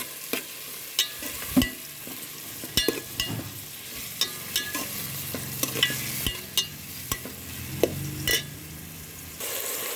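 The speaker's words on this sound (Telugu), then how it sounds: "నూనె వేడైంది ఇప్పుడు ఇందులో వేసి వేపుకుంటాం అవి బాగా వేగనివ్వాలి" Green chillies and curry leaves fry in hot oil for a chicken curry, giving a steady close sizzle punctuated by repeated sharp spatula taps and scrapes against the pan.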